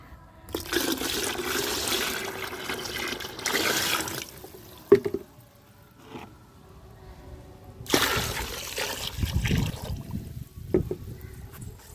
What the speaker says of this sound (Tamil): இந்த மாதிரி இன்னும் கொஞ்சம் தண்ணி கலந்துட்டு இதை இப்படியே கலக்கி விடணும்.